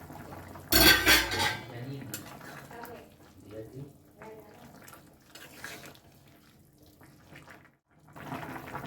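A metal lid lifted off a pot of vegetable chicken soup makes a loud clanking rattle near the start, followed by quieter clinks and kitchen handling noises.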